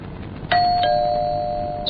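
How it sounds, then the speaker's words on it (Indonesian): A doorbell strikes once with a bright chime that rings on and slowly fades in a quiet house at night, a brief second tap following shortly after. "suara bel itu berbunyi lagi"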